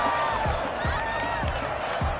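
A home crowd at an American football game roars in a dense, continuous wall of noise, loud and close, with a voice talking over it.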